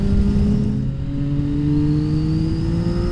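CFMoto 675 SR-R sport motorcycle engine revving hard while ridden on track, held high around 8000 rpm with rising harmonic whine and wind rush, loud and close throughout.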